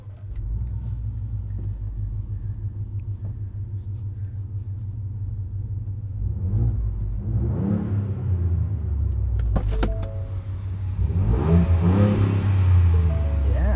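A 2.7L V6 Ford Bronco fitted with an MRT axle-back exhaust drives along with a steady low rumble, then rises in a couple of throaty revs as it accelerates, heard from inside the cab.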